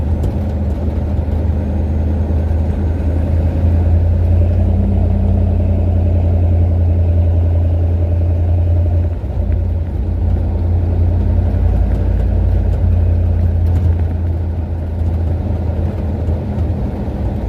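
A carbureted car engine idles, its timing just retarded by two degrees, giving a loud, steady, close low rumble with a slight even pulse that runs unbroken throughout with no talking.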